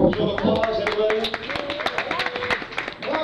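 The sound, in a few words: audience applause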